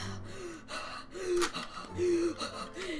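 A voice imitates hard, heavy breathing with repeated sharp gasping inhales and exhales in an uneven rhythm.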